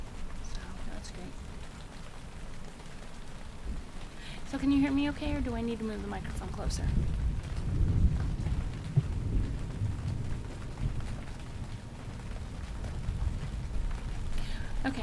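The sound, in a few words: rain and thunder ambience playing on stream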